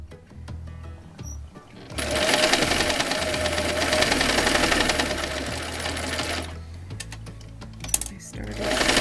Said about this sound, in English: Then we're going to sew down the other side of the line.